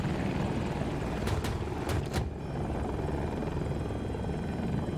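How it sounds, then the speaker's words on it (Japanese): An enemy transport helicopter in Battlefield 2042 drones with a steady rotor roar, joined midway by a few sharp metallic bursts of game fire, with no talk over it. "ヘリが、敵のヘリ、あ、輸送ヘリね、あれ。"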